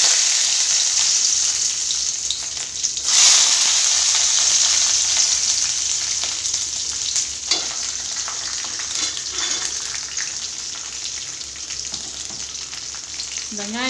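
Garlic frying in hot oil with mustard seeds and fenugreek for a bitter gourd tamarind curry hisses in a loud, dense, continuous sizzle, close up, with faint crackles throughout.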